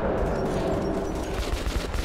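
A heavy, continuous barrage of gunfire in Metro 2033 Redux roars loud and dense throughout, individual shots blurring into a rumbling fusillade.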